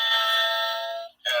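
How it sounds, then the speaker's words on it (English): Electronic doorbell chime on a podcast, a sustained bright multi-tone ring that fades out, then a second chime starts abruptly near the end; loud and close with no talk. "That's a doorbell."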